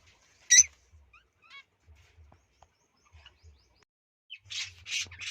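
Cockatiels give a few sharp squawks while being handled, one loud burst early then a cluster of harsh calls near the end, with soft handling bumps between and no talk.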